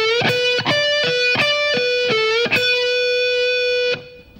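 Distorted electric guitar plays a rock lick with pull-offs, a quick run of sharply picked notes that ends on a sustained held tone, loud and close with no talk.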